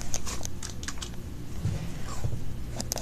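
Someone types on a computer keyboard up close, with quick bursts of clacking keys and short pauses between them. No one talks.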